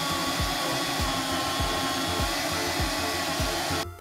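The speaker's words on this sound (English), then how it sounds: "you built a stand for your portable bandsaw, why aren't you using it?" A portable bandsaw runs with a loud, steady motor whine, a regular thumping pulse repeating about twice a second, then cuts out at the very end.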